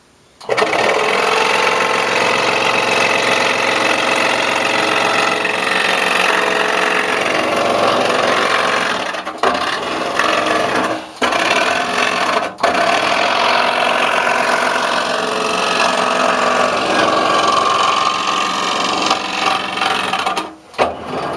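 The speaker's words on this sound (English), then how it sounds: "Now I am running a number 3 blade for this, so because it's 1/8 inch wood." Saw with a number 3 blade cutting 1/8 inch wood: a loud, steady, close buzzing that stops briefly a few times as the cut pauses, with no talk.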